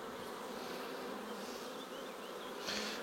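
Honeybees buzzing loudly and continuously at an open hive, a dense close hum with a few sharper passes of single bees near the end.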